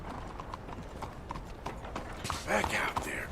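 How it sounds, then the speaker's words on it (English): Horse hooves clip-clop steadily as a mount moves through a market in Red Dead Redemption 2, with a rhythmic series of hoofbeats under game ambience and a brief burst of clatter and noise near the end. "Appears my horse has decided to go right through the market."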